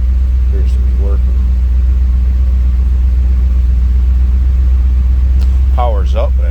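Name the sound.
1977 Pontiac Trans Am engine running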